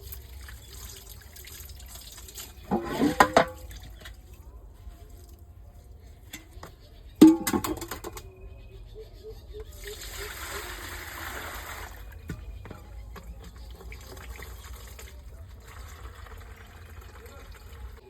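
Water poured into a large basin to prepare a bath, with a couple of sloshing splashes, then a softer, steady trickle and run of water under faint background voices.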